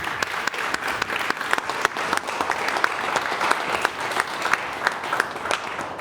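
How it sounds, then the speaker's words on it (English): Sustained audience applause at the close of a panel discussion on economic growth and security, dense steady clapping from a large room lasting several seconds without speech. "A round of applause, please"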